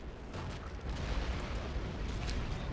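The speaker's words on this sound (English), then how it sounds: "Alright, tanks are firing." Tank cannon fire in the Men of War: Assault Squad game, set in the First Battle of Fallujah, Iraq 2003, as a dense, continuous rumble of booming shots and blasts with no clear gaps between them.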